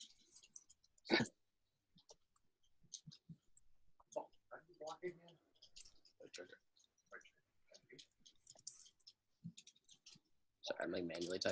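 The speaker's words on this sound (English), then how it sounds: "I'm like manually typing a lot of this." Keyboard keys are tapped in scattered bursts of light clicks during manual typing, close but quiet, with pauses between runs and soft speech-like sounds mixed in.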